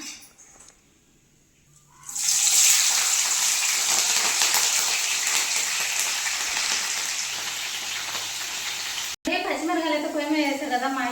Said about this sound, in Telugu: నూనె అయితే వేడైంది పచ్చిమిరకాయలు అయితే వేపుకున్నాం